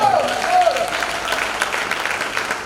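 Members of a church congregation in a temple applaud and cheer, a dense, steady wash of clapping and voices that carries on throughout, with a raised voice rising above it at first.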